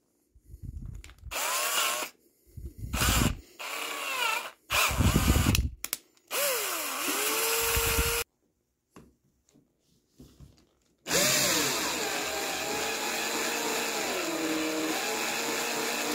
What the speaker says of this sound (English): Now we're going to attach a drill.